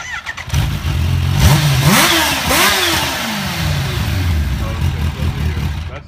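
A Kawasaki H2 motorcycle engine starts and revs. Two quick rising throttle blips sweep up and fall back over a rumbling idle, close and loud, while people talk nearby.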